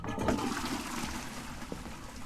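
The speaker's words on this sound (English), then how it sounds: "Ghosty, I'll flush for you." A toilet flushes in the ghost-hunting game Phasmophobia, a loud rushing burst of water that settles into a steady swirling drain and trickle, heard alone without voices.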